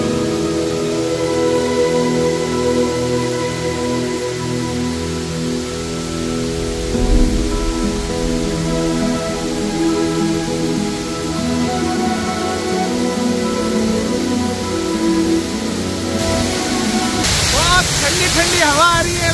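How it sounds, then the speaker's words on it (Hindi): A water wall fountain at a Houston water park pours in a steady, rain-like rushing hiss that stays loud and close throughout, with speech at times over the falling water. "ह्यूस्टन के वाटर पार्क में देखिए एक दीवार है पानी की और मैं इसके करीब जा रहा हूँ।"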